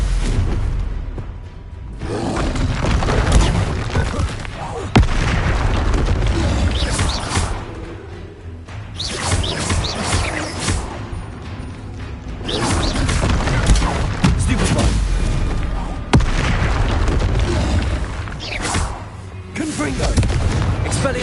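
Repeated spell explosions and crashing blasts from Hogwarts Legacy combat, loud and sustained in waves, with a player shouting incantations over the booms.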